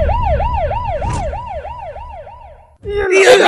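A wailing ambulance siren rises and falls in steady cycles over road noise, then cuts off abruptly before a burst of loud, harsh clatter.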